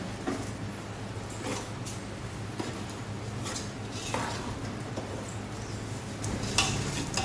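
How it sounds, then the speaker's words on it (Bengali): Rice frying with sugar in a pan, stirred with a utensil that scrapes and taps against the metal every second or so, over a soft steady sizzle, close and moderately loud, no one talking. "এরপরে আমরা চিনি দিয়ে দেবো, দিয়ে ভালো করে নাড়ব।"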